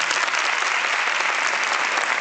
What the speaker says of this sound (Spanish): Aplauso contundente.